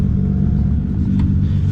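A Toyota Supra MKIV engine idles with a loud, deep, steady rumble close by, continuous over the short span with no talking.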